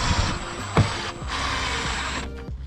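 A ratchet driving big screws into the base of an outdoor storage shed, a steady run of close mechanical clicking and whirring with a couple of sharper knocks, no talking.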